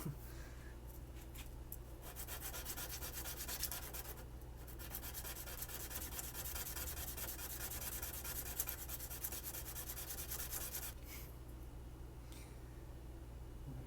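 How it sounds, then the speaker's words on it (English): A broken piece of paintbrush, part of a German Boker Tree Brand pocketknife restoration, is sanded down with steady, close scratchy rubbing strokes, briefly pausing twice, with no talking. "Let's see if I can just kind of sand that down, glue it in, and at least it'll cover the hole"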